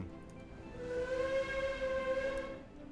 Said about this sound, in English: It has a whistle. Oh, that's so cool.